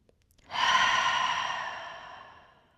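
A single long, slow exhale during a morning yoga pose, starting abruptly and fading gradually over about two seconds. The airy breath is close and clear against near silence.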